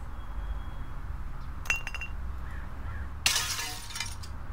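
Glass is processed in the My Recycling Center game: two sharp bursts of breaking, clinking glass, the second louder and longer, over a steady low hum.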